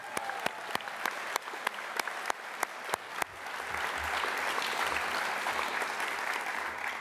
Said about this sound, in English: Can I have a round of applause for the staff